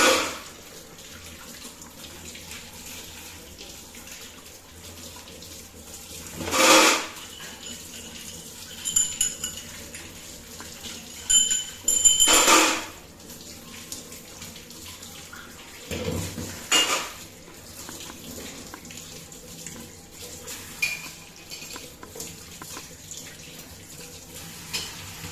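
Idols are washed under a running tap in a sink, with a steady low trickle of water broken by several sharp clinks and knocks of metal and dishes, close and fairly quiet, without talk.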